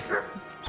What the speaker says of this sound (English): How dare you hit the dog?